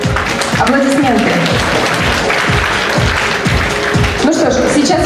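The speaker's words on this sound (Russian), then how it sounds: "Аплодисменты" Audience applause at a fashion mini-show master class in a Novosibirsk shopping mall, steady clapping filling the whole stretch with voices and music-like tones mixed underneath.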